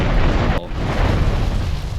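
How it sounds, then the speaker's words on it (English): A loud explosion in a Grand Theft Auto III cutscene: a dense, roaring blast with a sharp crack partway through, then a sustained rumbling wash that fills the whole stretch. "Some like explosions in this game are just absurdly loud for no reason."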